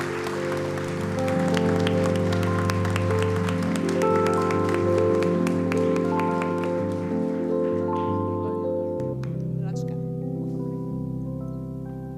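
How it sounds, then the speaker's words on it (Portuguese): Applause greets an honoree at a solemn Tiradentes Medal ceremony, broad clapping sustained over steady tonal background sound that eases toward the end. "recebessem com uma linda salva de palmas o nosso homenageado"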